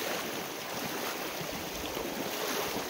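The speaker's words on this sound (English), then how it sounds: "Another creek crossing." Water rushes at a creek crossing on the Great Divide Trail on a cold, snowy day. The steady broadband wash of flowing water sounds close and continuous, with no voices.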